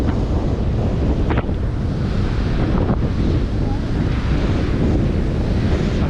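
Strong wind buffets the microphone at Ulee Lheue beach in Banda Aceh, a steady loud roar blended with surf wash throughout.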